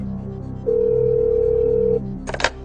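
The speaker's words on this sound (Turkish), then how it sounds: "Evet Emre Çakır'ın telefonu çalıyor." A telephone gives out a single sustained electronic ring tone, steady and fairly loud for over a second, followed by a brief burst of broadband clatter as it is answered; no speech.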